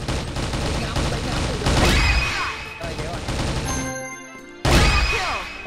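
Rapid bursts of gunfire from M16 and M700 weapons in a CrossFire shooting game, loud clattering volleys with brief gaps, a sharp renewed burst near the end, and someone talking over the shots.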